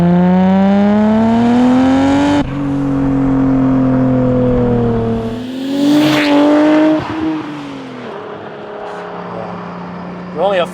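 A 600 hp Nissan R32 GT-R revving near 4,000 rpm, a loud close engine note with steady rising and falling pitch sweeps, the tone shifting as revs change, with no talk over it.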